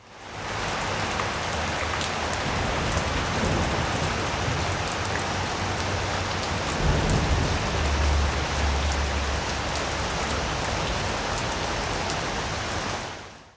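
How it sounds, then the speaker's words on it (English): Heavy rain pouring down outdoors at a one-pot outdoor cooking spot, a dense, steady hiss of drops hitting surfaces, with occasional low rumbles and thumps near the middle, continuous and loud with no voices. "It started raining so hard out of nowhere."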